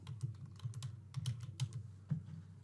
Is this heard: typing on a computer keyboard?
yes